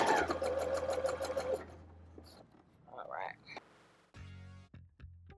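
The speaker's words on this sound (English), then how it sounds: "Then we're going to go ahead and sew this closed." A sewing machine stitching an elastic waistband closed, running in a fast steady whir for about two seconds, followed by quieter handling noises and a few brief bursts of stitching.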